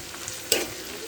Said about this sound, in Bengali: এই তেলটা গরম হয়ে গেলে এবার আমি এতে পেঁয়াজ কুচি দিয়ে দেব।